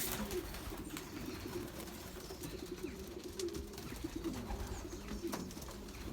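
Belgian racing pigeons coo steadily in a loft after arriving from a 40 km young-bird test race, with low repeated calls running throughout alongside occasional faint fluttering.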